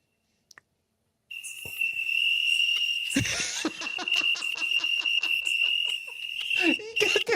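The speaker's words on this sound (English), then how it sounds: "You got the crickets" Cricket chirping sound effect: a steady high chirp trill running loud and continuous after a brief near-silent start, broken by rhythmic pulses and some bursts of noise.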